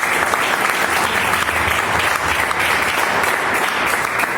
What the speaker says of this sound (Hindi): मैं चाहूंगा हमारे सभी गुरुदेव के लिए एक बार जबरदस्त तालियां।